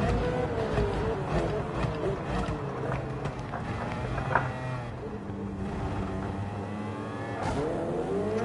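A race car engine in the Gran Turismo 7 racing game revs and shifts pitch through the lap, fairly quiet and steady with a few mechanical clicks along the way.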